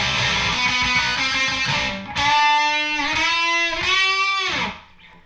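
Electric guitar playing the notey lead part of a song, a string of close, distorted picked notes followed by sustained ringing bends that fade out at the end.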